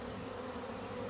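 A honey bee swarm drones in a dense, continuous buzz around a hive box as the bees try to get in, steady and close with no pauses.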